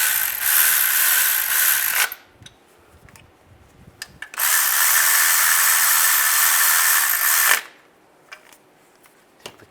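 Ratchet wrench snugging down the timing cover bolts on a 2007-2013 Chevy Silverado: two long bursts of rapid clicking, close and loud, broken by a quiet pause with faint knocks.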